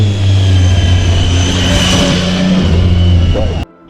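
Motorcycle engine revving loudly and close during an off-road maneuver demo on an uneven mountain track between Manali and Jispa, a sustained throaty drone that rises and dips before cutting off abruptly near the end.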